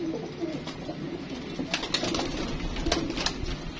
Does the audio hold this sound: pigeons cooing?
yes